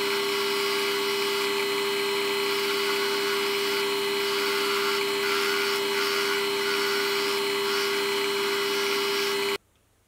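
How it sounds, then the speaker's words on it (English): A Scotch-Brite wheel grinds rust off a steel part for a milling machine vise speed handle, a loud steady whirring hum that runs unbroken, then cuts off abruptly near the end. "There's a bit of rust on the steel, which I'll clean up using the Scotch-Brite wheel."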